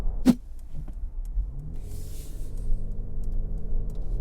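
A 2024 Mercedes G-Class engine pulls steadily under moderate acceleration on a dual carriageway, a smooth low drone rising gently, preceded by a brief sharp click near the start.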